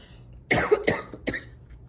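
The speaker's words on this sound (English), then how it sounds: "Nothing much going on besides this stupid cough." Three harsh, close coughs in quick succession, the first loudest, with a brief pause before the last one.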